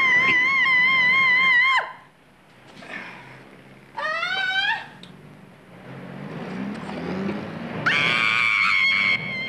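A woman screams in a stage-farce comedy film, with three shrill, sustained bursts that are loud and close, separated by quieter stretches of background noise.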